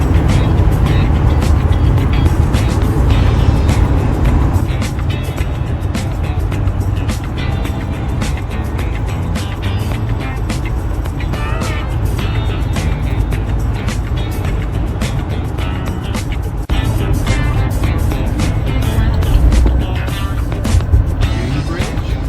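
Steady road and engine roar from a vehicle cruising at highway speed on Interstate 91, a loud continuous rumble with tire and wind noise that holds throughout, with brief talking at times.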